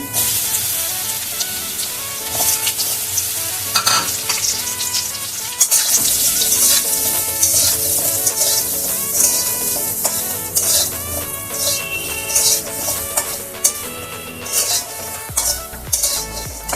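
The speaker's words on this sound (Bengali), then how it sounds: "প্রথমে বড়িটাকে ভেজে নেব।" Bori, Bengali lentil dumplings, frying in hot mustard oil for shukto, with a steady sizzle and crackle and occasional stirring and utensil clinks throughout, loud and close.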